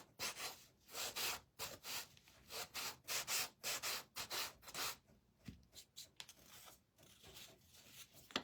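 Sandpaper rubs back and forth over a wooden turkey kit in close, steady strokes, with a brisk scratchy rhythm and short gaps between passes.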